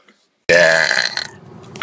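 A single loud, drawn-out burp erupts after a moment of silence, sounding close and lasting over a second before trailing off.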